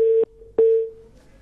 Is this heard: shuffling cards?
no